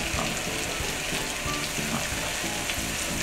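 Mushrooms stir-fried in a pan, a steady close crackling sizzle with faint stirring scrapes, continuous and alone without speech.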